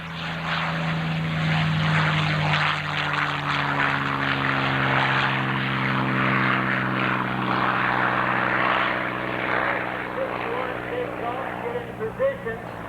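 A World War II training propeller plane takes off at a 1995 aviation heritage air show in Clark County, Indiana, its droning engine loud and steady with a falling pitch, while an announcer talks over it.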